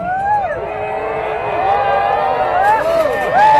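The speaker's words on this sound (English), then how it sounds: "You are now cheering wildly" An audience at a Maker Faire life-size mousetrap show cheering and whooping, with rising and falling shouts over a continuous crowd roar that swells toward the end.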